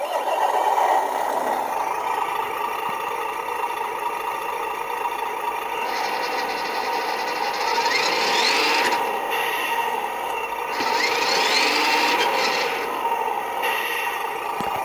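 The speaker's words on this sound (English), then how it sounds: "This is the diesel sound, so we'll do a startup on this." A WPL RC truck sound module plays a simulated diesel engine startup, a continuous mechanical rumble and rattle from a small speaker that swells and settles in waves, heard alone.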